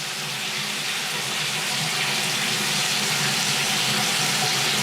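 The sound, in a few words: tap water running down a drain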